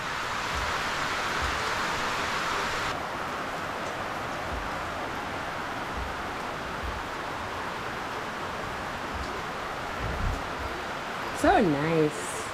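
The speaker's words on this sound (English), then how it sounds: "I love the sound of the rain" Rain falls outdoors as a soft, steady, continuous hiss that lasts throughout, with a brief voice near the end.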